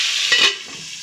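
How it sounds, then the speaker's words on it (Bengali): Kochuri frying in a pan of oil makes a brief, close hiss with a short louder bubbling burst in the middle before it fades slightly. "3 নম্বর কচি ভাজা হচ্ছে"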